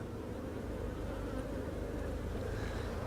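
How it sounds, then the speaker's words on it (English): Honeybees buzzing around an open hive during an inspection after an artificial swarm, a steady close drone of many bees at low level without talking. "Nope, that's a worker bee."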